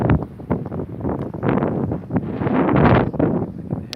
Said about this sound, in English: It was just ridiculously windy. It's a very windy place.